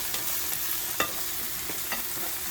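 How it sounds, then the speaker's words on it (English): Shallots and green onions sizzle in a pan with a constant hiss, broken by a few sharp scraping stirs of a utensil. "So right now what I'm doing is sauteing some shallots and green onions."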